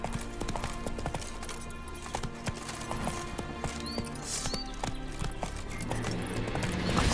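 Roach, a horse in The Witcher 3: Wild Hunt, gallops with rapid, continuous rhythmic hoofbeats, close and loud throughout, over a busy background with faint whistling tones.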